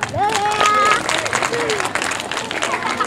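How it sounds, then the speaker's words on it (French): Applause for the winning team at a school presentation at the Agadja palace, a crowd clapping with babble under it and a voice calling out over the start. "Applaudissez pour eux,"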